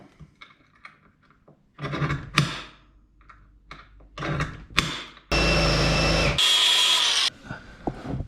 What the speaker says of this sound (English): I want to drill that hole